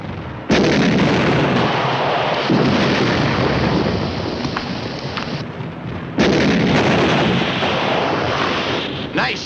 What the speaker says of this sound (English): Fire 2 rounds of HE in them.